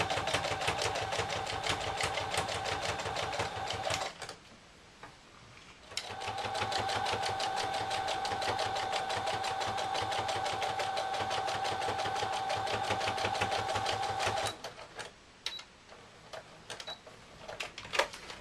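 Sewing machine stitching the eyes onto a Christmas Santa cushion, a close, fast, even whir that runs, pauses briefly, then runs again at length before stopping.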